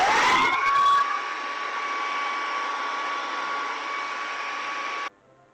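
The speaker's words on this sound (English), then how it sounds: "I think I'm going to try using my hand dryer today." A hand-held hair dryer roars loudly at first, then drops to a steady whining hum while drying type 4 curly hair, and cuts off abruptly near the end.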